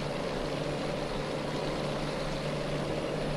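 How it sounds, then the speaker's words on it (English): A truck engine idling in American Truck Simulator, a steady low drone with a constant hum, unchanging and fairly quiet throughout. "Like, I like the sound of this engine,"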